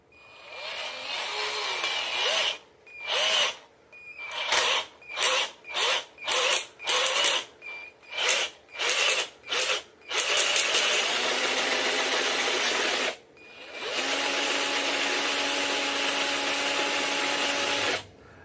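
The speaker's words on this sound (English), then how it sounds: "Again, I only go to the first hole, drilling down there." An electric drill bores holes into a wooden nunchaku handle, with repeated short whirring bursts followed by two long sustained runs at close range.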